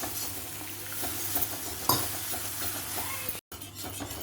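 Milk is stirred into cooked maida flour in a pan with a spoon, giving soft, quiet scraping and a few light clinks against the metal, with no voices.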